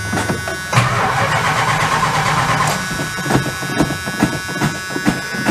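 A Dodge Magnum engine cranks and catches without priming gas, a busy mechanical churn that settles into rough, uneven running with sharp knocks and pops toward the end, loud and close with no talking.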